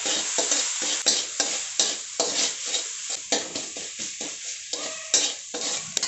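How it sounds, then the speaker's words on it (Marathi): Green chilli paste, salt and turmeric being sautéed in a pan for aloo paratha filling, with a steady sizzle broken by regular scraping stirs of a spoon against the pan, close and fairly loud. "आता आपण हे थोडंसं परतून घेऊयात"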